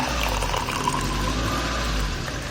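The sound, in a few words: pouring hot water into ginger lemon turmeric juice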